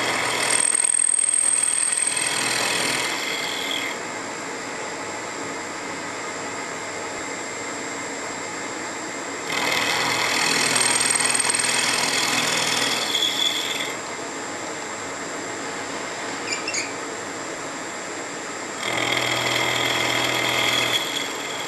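A milling machine cuts a small pocket in a workpiece, its steady mechanical whir and cutting noise rising in louder bursts between quieter running stretches.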